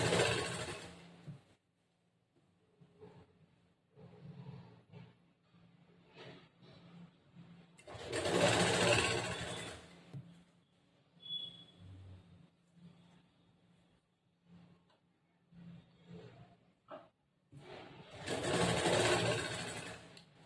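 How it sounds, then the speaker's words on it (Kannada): A sewing machine stitches blouse fabric in three loud bursts of fast, even whirring, separated by quieter stretches of faint handling sounds and a low steady hum. "ಈ ತರ ಹಿಂಗ ಎಲ್ಲ ಬಟ್ಟೆ ಸರಿಗ್ ಮಾಡ್ಕೊಂಡು ಜೋಡಿಸ್ಕೊಂಡು ಇದು ಹೊಲಿಗೆ ಹಾಕೊಂಡು ಬರಬೇಕು."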